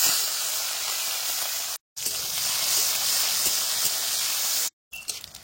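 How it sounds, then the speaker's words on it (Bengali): Prawns with salt and turmeric fry in hot oil with cumin seeds in a rural village kitchen, making a loud, steady, close hiss that runs on without a break apart from two short cuts. "এবার নুন হলদি মাহেরা এই যে চিংড়ি মাছ কটা দিয়ে দেবো।"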